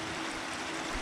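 Steady broadband rush of spring water running down from the mountain above Santa Úrsula, Hidalgo, flowing year-round; a continuous close wash with no voices over it.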